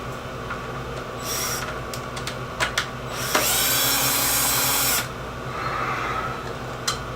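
A cordless power driver spins out 2.5 mm screws from an RC car's receiver box, giving short whirring bursts with one longer steady run in the middle, close and fairly loud, with small clicks between.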